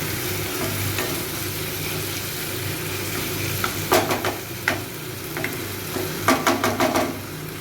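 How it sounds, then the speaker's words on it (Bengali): Chopped onions and green chillies fry in a pan for mutton kosha, giving a steady close sizzle. A run of sharp clattering stirs comes in the second half, and no one speaks. "পেঁয়াজটাকে আমি আরও একটু 2-3 মিনিট ধরে ভেজে নেব"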